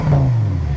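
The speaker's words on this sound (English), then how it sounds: "there's nothing like a little Huracan Performante V10 in the morning" A Lamborghini Huracan Performante's V10 engine revs in a short, loud burst, with a steady low growl throughout.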